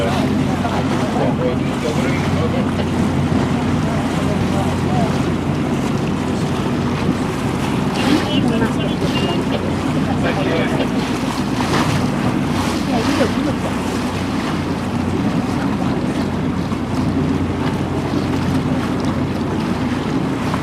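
Sea waves slap and rush around a boat crossing open water off Scotland, with strong wind buffeting the microphone in a loud, continuous roar throughout.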